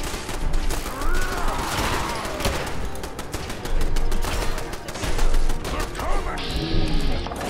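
Defense turrets in Fallout 4 pour out rapid bursts of gunfire mixed with crashing impacts, loud and dense, while someone talks over the shooting.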